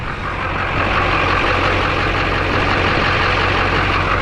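A Duramax diesel pickup engine with stock exhaust idles loudly and evenly nearby, a constant deep rumble with a gravelly clatter and no other sounds.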